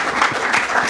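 Audience applause at a football manager's pre-match press conference, steady dense clapping filling the whole second at close range.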